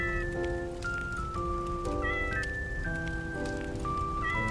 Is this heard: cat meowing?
yes